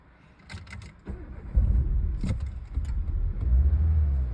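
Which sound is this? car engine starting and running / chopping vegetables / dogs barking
car engine starting and running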